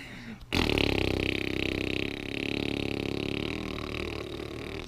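A long, loud, buzzy rasping blast like a fart or burp noise, sustained for several seconds after a brief lead-in, with a wavering pulsed texture and no talk.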